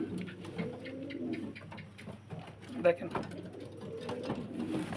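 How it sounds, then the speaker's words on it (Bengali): Pigeons on a pigeon farm coo in low, repeated murmurs close to the microphone, while people talk over them throughout. "একদম নিখুঁত আমরা কবুতরটার পিঠের সাইডটা একটু দেখাবো"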